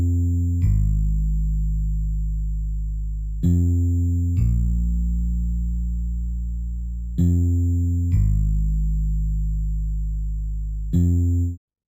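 A BandLab bassline with a bit crusher set to 36% intensity, giving a lo-fi sheen on top: about five sustained, loud low synth bass notes, each starting with a sharp attack and ringing steadily until the next.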